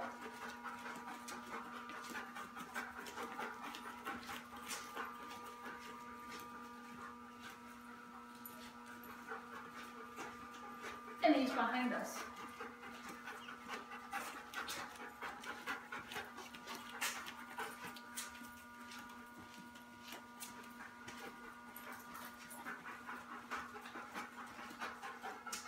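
A husky's soft, steady panting runs under a quiet room with a faint hum, a brief louder shuffle or whimper breaking in midway; no talking.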